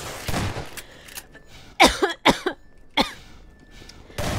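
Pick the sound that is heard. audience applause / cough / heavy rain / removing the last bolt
cough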